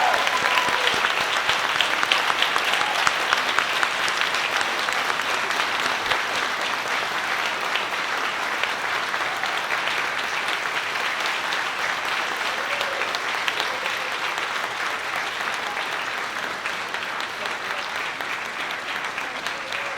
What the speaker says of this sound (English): please give an applause for the 29th Anniversary Gala VIP honorees